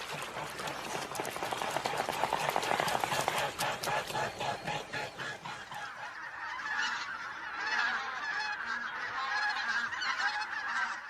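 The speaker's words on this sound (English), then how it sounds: "In October, thousands of bean geese and greater white-fronted geese descend on the Morava's banks." Dense flock of bean geese and greater white-fronted geese on the Morava floodplain, loud overlapping honks at first, then thinning to softer scattered calls over a steady background wash.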